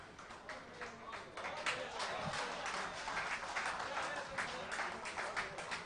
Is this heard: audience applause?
yes